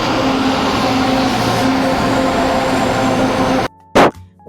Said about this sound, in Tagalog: hintayin na lang natin na makarating yung LRT din